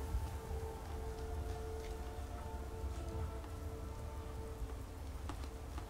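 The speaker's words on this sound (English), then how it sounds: "Now it's raining." Steady rain falls in the video game Skyrim, a soft, even hiss of drops at low volume lasting throughout, with no voices.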